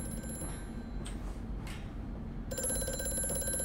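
A telephone rings inside the horror game Amnesia: A Machine for Pigs, its bell tone sounding steadily at moderate volume over a low ambient drone, growing stronger toward the end.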